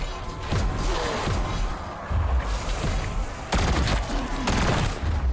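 Gunfire in the Call of Duty video game, with dense bursts of rapid automatic shots and heavy booms filling the whole stretch, loud and close in the mix.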